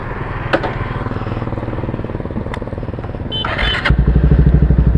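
A Yamaha R15 v3 motorcycle with an aftermarket exhaust idles and rumbles up close in a steady throbbing pulse, then revs louder and deeper near the end, with a few sharp clicks over it.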